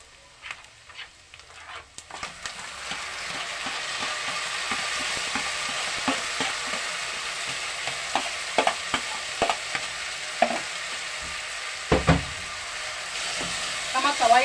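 Peppers, green and red, frying with tomato puree for spaghetti bolognese while being stirred, giving a steady close sizzle broken by repeated scraping clanks of the spoon against the pan.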